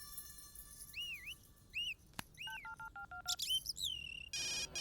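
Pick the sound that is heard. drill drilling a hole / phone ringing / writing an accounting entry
phone ringing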